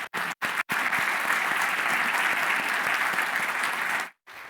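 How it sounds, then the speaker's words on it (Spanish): An audience applauds panelists at the close of a talk on emerging transport technology, with a few brief cut-off bursts at the start, then a sustained, loud spread of clapping that ends sharply after about four seconds. "damos las gracias y un gran aplauso a nuestros panelistas"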